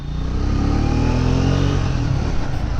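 A Triumph Speed 400 single-cylinder motorcycle pulls hard in second gear, its loud engine note rising steadily as it accelerates up close.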